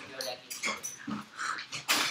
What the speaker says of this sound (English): All the dogs are running around.